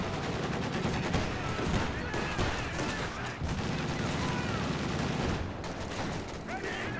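Anti-aircraft gun firing in the Company of Heroes 2 video game, rapid repeated bursts of gunfire in a dense continuous barrage, with faint battle noise underneath.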